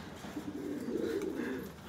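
A pet pigeon coos nearby in one soft, low, rolling call that lasts a moment.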